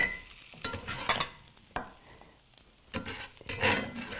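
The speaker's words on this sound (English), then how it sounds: "So that I can deglaze my pan." Liquid hits a hot pan used to fry potatoes with onion and apples, deglazing it with two loud hissing sizzle bursts and a shorter spit between them, plus faint scraping in the quieter gaps.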